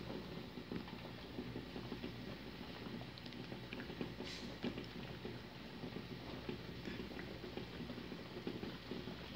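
An egg boiling in a pot of water makes a steady bubbling, crackling rumble, fairly faint and continuous with no voices.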